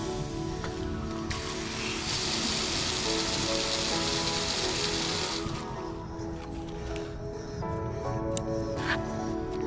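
Water gushes steadily from a Hunter Pro HE adjustable sprinkler head being flushed out, a loud continuous spray and hiss running the whole time with a brighter burst midway, close by and without talk.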